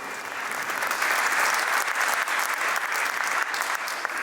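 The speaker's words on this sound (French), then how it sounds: "Vous avez bien fait d'applaudir maintenant" A hall audience at a culture event closing ceremony claps steadily and loudly, continuous applause holding at an even level throughout.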